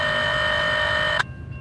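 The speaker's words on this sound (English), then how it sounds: "You can hear the scanner going off." Railroad radio scanner going off trackside at a CSX line in Dalton, Georgia: a steady, loud electronic tone holds for about a second, then cuts abruptly to low background noise.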